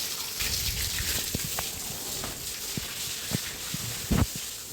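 Water is splashed over a cow being bathed: steady splashing and trickling with scattered drips and a few sharper slaps of water, close by and continuous, with no talk.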